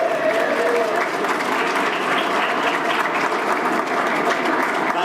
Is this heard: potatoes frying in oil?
no